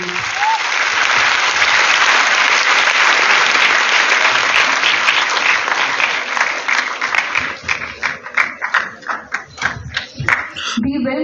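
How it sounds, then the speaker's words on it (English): An audience applauds at a student topper awards ceremony, with dense, sustained clapping that fills the hall for several seconds and then thins into scattered individual claps before dying away. "Give a wild round of applause, please."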